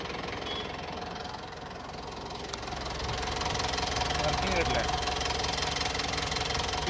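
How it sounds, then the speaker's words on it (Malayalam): A used Mitsubishi Pajero Sport engine idles smoothly with a steady, even drone, and someone talks over it. "യാതൊരു രീതിയിലുള്ള മണിയടി ശബ്ദവും കേൾക്കാനില്ല കേട്ടോ,"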